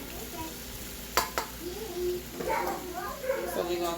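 Shrimp, steak and chicken sizzling on a hibachi over medium to high heat, a steady low frying hiss with occasional clinks of a utensil, close by.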